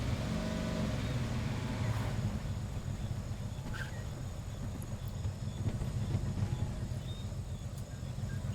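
A car engine idles steadily in the racing game Need for Speed Heat, a low, constant rumble that stays at the same level from start to finish with no revving or talk.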